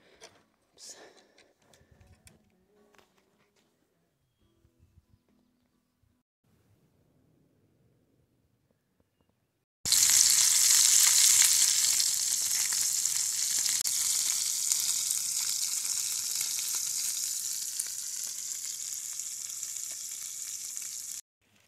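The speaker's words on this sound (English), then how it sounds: "And some fried trout." Trout sizzles loudly and steadily in a pan at a backpacking camp, a dense frying hiss that begins abruptly after a quiet stretch with a few faint handling clicks.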